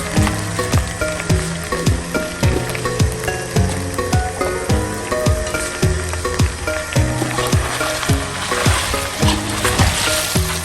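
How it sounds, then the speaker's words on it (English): Jollof rice frying in a pot over a firewood fire: a steady sizzle with repeated scraping strokes of stirring in a regular rhythm, close and fairly loud. "you can see it's already frying"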